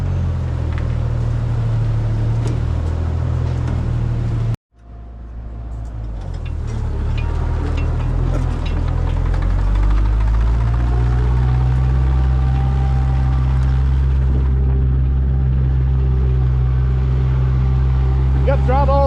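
Kenworth-style G900 diesel truck engine that had sat unused for years, a loud low rumbling idle that cuts out briefly, then restarts and settles into a steady heavy drone with faint voices nearby.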